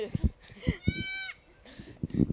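A day-old baby goat gives a loud, rising bleat in the middle of close, cheerful human chatter, with handling noises and voices around it.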